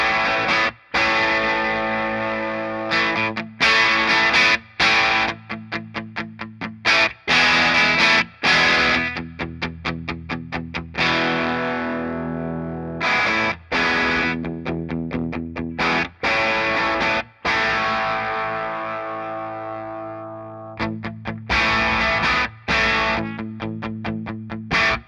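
Electric guitar through a Hamstead Odyssey overdrive pedal, its tone shaped with the pedal's 18 dB EQ, playing loud gritty chords and choppy rhythmic riffs with short pauses, alone without talk.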